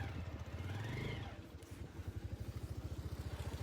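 Motorcycle climbing a forest road through dense jungle near Kathmandu: an engine revving and easing, then settling into a rapid, steady, thumping putter, close but fairly quiet, with no talk.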